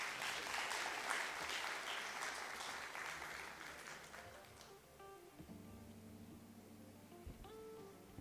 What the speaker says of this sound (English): May we have a round of applause for.